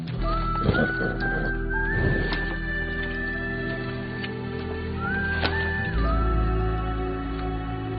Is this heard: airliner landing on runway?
no